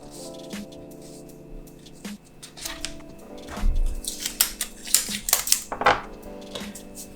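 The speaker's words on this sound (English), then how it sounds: "So once the second row is done, you can tape the rows together." Paper sewing pattern rows being joined with tape: crinkling, rustling paper and tape pulled and torn off a roll, with brief sharp rips and soft handling noises throughout.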